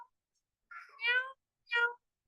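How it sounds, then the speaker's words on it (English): Two clear cat meows a moment apart, close and fairly loud, preceded by a softer mewing sound, with silence between. "that's the sound of a cat."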